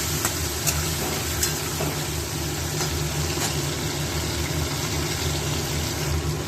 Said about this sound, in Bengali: দিয়ে ঢাকা দিয়ে ভেজে নেবো।